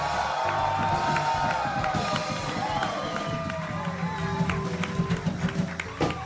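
A large crowd at a live comedy show cheers and whoops continuously, with scattered shouts and some clapping, loud and filling the space.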